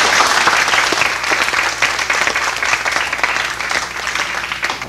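A school conference audience applauds, a loud, dense wash of many hands clapping together that holds steady for several seconds.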